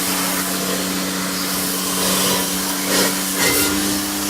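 A pressure washer sprays cleaner inside the barrel of a car wheel, making a steady close hiss with a constant hum and a few brief surges as the spray shifts.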